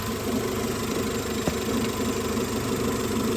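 A B16 engine in a 1996 Honda Civic EK hatchback idles steadily around 700 RPM, a continuous mid-pitched hum with a single brief tick partway through and no voices.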